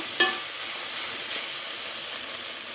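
Onions sizzle and hiss steadily in a hot pan while being stirred, a close, continuous frying sound with a brief scraping accent near the start.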